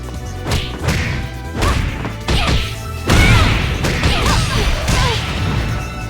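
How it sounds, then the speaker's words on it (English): Dead or Alive 5 fighting-game combo hits: a rapid series of loud, close thuds, whacks and crashes with swishing swipes, each strike heavier than the last, densely packed with no speech. "If you listen to the short combo, you will hear 3 different attack sounds that change depending on their effect."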